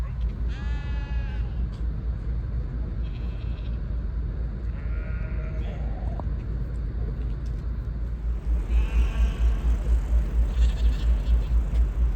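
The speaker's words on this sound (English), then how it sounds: "the very vocal sheep in the field next to the dock" Several sheep bleat in bursts across an open field beside a fjord dock in Skjolden, Norway, some near and some farther off, over a constant low engine rumble.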